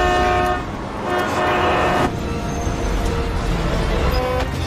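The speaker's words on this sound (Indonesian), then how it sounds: "Tanpa diduga, di tengah lamunan Donnie Yen tiba-tiba ada truk melintas yang mengakibatkan mereka bertarung di bawah mobil-mobil yang sedang melintas" Trucks and cars pass in a film scene, a loud continuous traffic roar with a sustained horn toot blaring near and up front.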